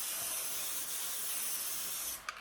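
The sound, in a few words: cooking spray greasing a baking pan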